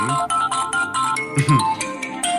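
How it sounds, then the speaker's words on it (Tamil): A mobile phone ringtone plays, a steady melodic electronic tune with repeating pulses, loud and close throughout, with no voices over it. "சார் உங்க ஃபோன் ரிங் ஆகுது."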